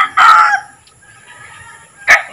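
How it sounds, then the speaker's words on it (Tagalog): A rooster crows loudly at a Filipino household, a long drawn-out call followed by quieter background sounds, then a second short burst near the end. "Ang manok, katanihaw ng manok."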